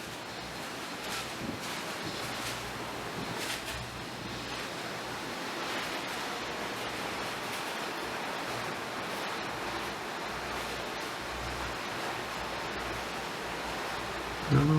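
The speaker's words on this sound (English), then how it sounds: "You can see how windy it is here." Strong wind buffeting the open deck of the SS Badger ferry crossing Lake Michigan, a steady loud roar of rushing air and water noise throughout, with a brief knock near the end.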